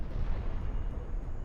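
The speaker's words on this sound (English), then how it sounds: "That was a big explosion, but he didn't die." A heavy explosion in the spaceship combat game Highfleet gives a loud, low, rumbling blast that rolls on without a break for its whole length, with no voices over it.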